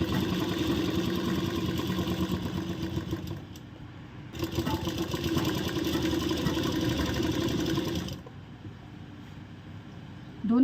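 Sewing machine stitching a side seam on a ladies' pant, a steady close mechanical whir with rapid needle clatter, pausing briefly once and stopping near the end.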